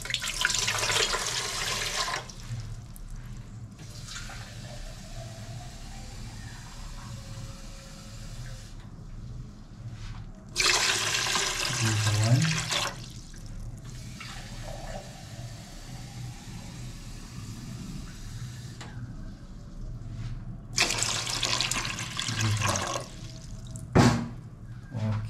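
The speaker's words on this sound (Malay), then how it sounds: "terus kita masukkan air dahulu. Ini kita masukkan cawan besar ni 3 cawan." Water is poured into a large cup while preparing a Brazilian soursop leaf decoction, coming in several separate bursts of rushing, splashing flow with quieter gaps and a low background hum in between.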